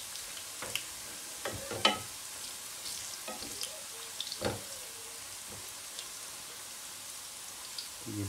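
Garlic frying in a pan for Mirza Qasmi, an Iranian eggplant dish, makes a faint steady sizzle with occasional soft pops and stirring clicks, close to the listener and mostly without speech.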